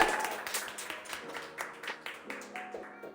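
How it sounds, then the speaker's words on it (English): A small audience at a post-election state officials event gives a round of applause, steady scattered clapping of modest size heard at a moderate distance, tapering off over a few seconds. "Give them a round of applause."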